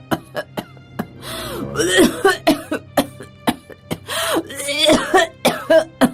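A woman in a Hindi story coughs repeatedly in sharp close bursts, with strained throaty coughs and gasps coming in uneven clusters and no speech.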